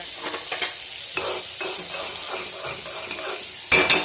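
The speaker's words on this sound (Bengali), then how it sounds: "আর এই দেখো পটল আর আলুটা ভালো করে কষাচ্ছি" Pointed gourd and potato sauté in a pan, a soft sizzle broken by several sharp clinks and scrapes of a spatula stirring, with one louder clatter near the end.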